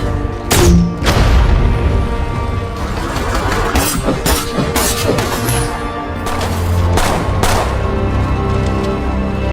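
A film battle scene erupts with heavy gunfire and booming explosions, sharp cracks and deep blasts coming in rapid, irregular bursts over a dense, loud rumble, with a voice briefly audible.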